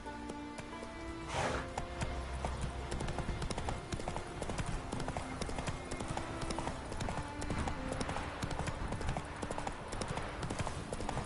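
A horse's hooves gallop steadily in The Witcher 3: Wild Hunt on PS5, a continuous rapid clip-clop over dense game music and ambience, with a brief voice near the start.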